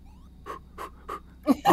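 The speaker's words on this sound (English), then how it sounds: "Oh, look at him panting." A game character panting in the NES title Indiana Jones and the Temple of Doom: a short run of five quick, evenly spaced breathy puffs, the last two louder.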